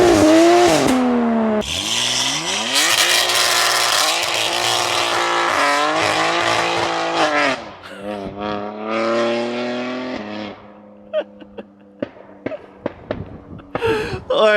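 A BMW G87 M2 and a Supra on the move: loud engines rev hard through rising and falling gear sweeps with sharp shift breaks, then settle into choppy lower revs with pops and crackles near the end.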